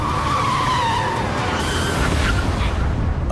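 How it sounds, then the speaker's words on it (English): A car braking hard as its automatic braking system engages to avoid a collision, with loud tire squeal and skidding over continuous road noise, close throughout. "just yards from a collision, the automatic braking system kicks in"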